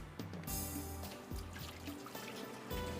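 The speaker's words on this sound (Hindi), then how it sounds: "इसलिए गर्म है ये, पानी निकाल देते हैं इसका।" Hot water poured and drained off boiled tomatoes in a home kitchen, a steady trickling splash with dribbles, moderately close and alone without talk.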